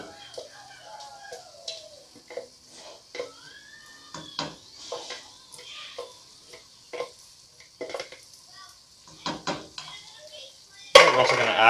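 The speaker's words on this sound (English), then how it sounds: "Use our spatula to try and get all of the crushed tomato out." A spatula scrapes crushed tomatoes out of a metal can, producing a series of intermittent scraping and tapping clinks, followed at the end by a sudden loud burst of sizzling.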